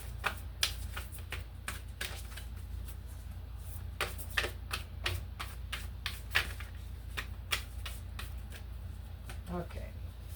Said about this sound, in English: Cutting the deck with Mercury Mind.